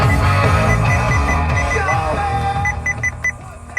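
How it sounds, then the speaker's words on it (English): A Joying Android touchscreen head unit in a BMW E90 emits a rapid series of electronic beeps over loud, busy radio audio, the beeps standing out clearly toward the end. "I would have to turn down all that beeping sound I don't like"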